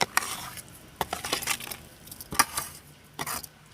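A coconut and sugar mixture is stirred in a wok for narkel naru, giving scraping and clinking of a spatula against metal in irregular strokes, close and fairly quiet.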